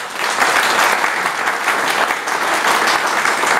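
Sustained applause from a crowd, steady and dense throughout, with no voices standing out.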